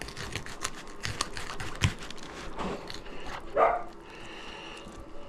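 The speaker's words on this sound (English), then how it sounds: "Excuse my dog if you guys can hear that." A pet dog barks once or twice at a distance, a short sharp burst over steady tapping and cutting noises while a fluke is filleted with a knife nearby; no one speaks.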